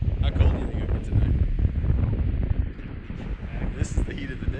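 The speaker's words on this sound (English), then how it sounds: "Nice and windy." Outdoor wind in the Big Horn Mountains of Wyoming, a steady low buffeting rumble across the microphone with gusty swells throughout, while people talk faintly over it.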